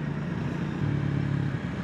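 A new MY25 Triumph Speed 400 motorcycle runs nearby, its engine and exhaust producing a steady, close droning rumble that firms up slightly partway through.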